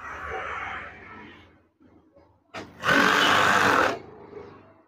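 A sewing machine stitches white curtain fabric in a steady, close, buzzing run of about a second, after a softer whirring stretch and a brief pause.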